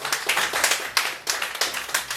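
A small audience at a poetry night claps for the poets: brisk, uneven clapping in quick repeated bursts, close and steady for a couple of seconds.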